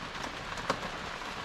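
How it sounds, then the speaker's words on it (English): Rain falling during a cycling trip on the P'tit train du Nord trail, a soft, steady patter close by with one brief louder tap and no voices. "it's raining and it's forecast to rain all day."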